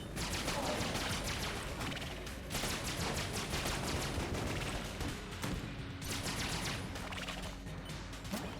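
Dense, continuous video-game gunfire with explosive rounds in Enter the Gungeon, rapid overlapping shots and blasts filling the whole stretch at steady loudness.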